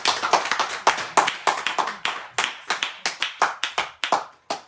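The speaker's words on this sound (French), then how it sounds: "maintenant, on acclame pour Jésus-Christ" Congregation in a church clapping in quick, uneven bursts of many hands, fairly close, with no talk over it.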